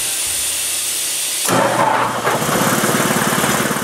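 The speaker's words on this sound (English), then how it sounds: "Under the stairs is my compressor." Small air compressor under basement stairs in a home woodworking shop kicks on partway through, a low hum jumping to a loud, steady mechanical drone with a rapid pulsing chug, close by and without talk.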